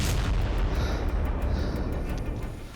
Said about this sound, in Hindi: इजरायली सेना की बमबारी के बाद साउथ लेबनान के रमीच इलाके के कई वीडियो सामने आए हैं।